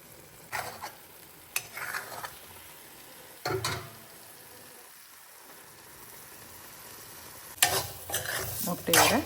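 Egg rice being stirred in a pan, scraping spatula strokes in short bursts over a faint background sizzle, with a quiet pause midway.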